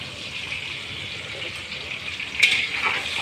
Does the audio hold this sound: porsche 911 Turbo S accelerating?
no